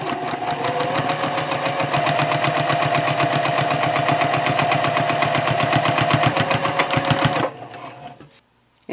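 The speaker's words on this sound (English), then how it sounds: "we're just going to top stitch right across that edge" A sewing machine top-stitching across a fabric edge at a 2.5 stitch length, a loud steady rapid needle clatter that runs for several seconds and then slows and stops.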